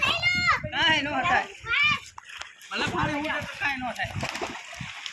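Water splashes at a water park beneath excited children's voices and chatter, with bursts of sloshing between the talking.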